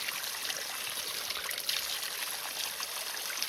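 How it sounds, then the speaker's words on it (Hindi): Fresh cold mountain stream water trickling and pouring steadily nearby, a close, continuous bright splashing flow with no voices. "ये देखो फ्रेश वाटर"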